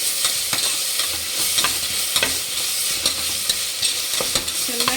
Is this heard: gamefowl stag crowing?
no